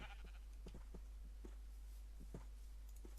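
Sheep in the Minecraft video game bleat in short repeated bursts, several scattered calls at moderate level over a constant low hum.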